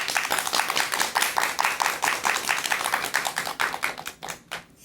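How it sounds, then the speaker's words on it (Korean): Lecture audience bursting into sustained applause, dense rapid clapping from many hands filling the hall for several seconds before thinning out at the end. "큰 박수 부탁드립니다."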